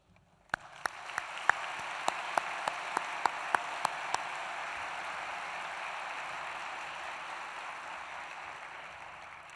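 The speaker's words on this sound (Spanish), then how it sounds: "agradeceroslo con un fuerte aplauso, porque gracias a vosotros hoy estamos aquí." An audience at a winery anniversary gala applauds. A few sharp single claps come first, then the clapping swells into steady, even applause that holds at the same level until the end, with no voices over it.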